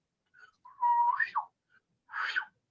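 Two sharp whistles meant as magical spears flying at a ship, voiced by a person: a rising then falling whistled tone followed by a shorter second burst after a brief gap, close and clear.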